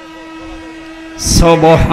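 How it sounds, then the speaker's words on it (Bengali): An approaching train: a steady low tonal hum gives way to a loud, close horn blast that swells suddenly and holds to the end. "সাবধানে থাকবেন, ট্রেন আসতেছে।"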